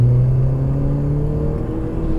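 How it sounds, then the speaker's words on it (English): A Mk1 Audi TT pulls hard in third gear, its engine droning steadily close by with a rising harmonic whine under a low rumble, no voices over it. "So put it into third gear at say 30 and accelerate hard"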